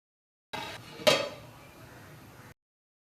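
A metal lid is set onto a pan of stuffed brinjal masala with one clear ringing clink, followed by a soft low simmer for about two seconds.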